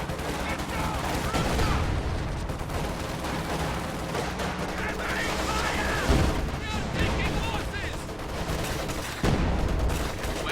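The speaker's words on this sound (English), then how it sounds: "High explosive barrage going off over here" Artillery barrage and gunfire from a World War I style strategy video game: continuous dense rumbling explosions and crackling shots fill the clip, with heavier booms around the middle and near the end, under steady game sound.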